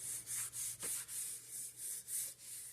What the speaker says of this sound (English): So I'm rubbing that around on this peanut butter.